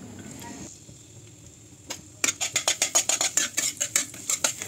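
Garlic, onion and green chilli go into a little hot oil in a wok; after a quiet start, a run of fast, regular scraping stirs clatters close over a soft sizzle.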